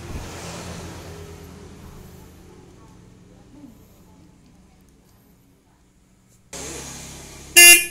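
A short, loud electric horn blast from a Yamaha RX King motorcycle sounds abruptly near the end, after a low motor hum fades to near silence and a click.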